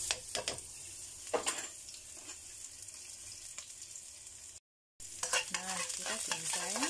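Shallots and garlic frying in hot oil, a steady sizzle with stirring scrapes and a brief gap partway through, close and moderately loud, with no talking.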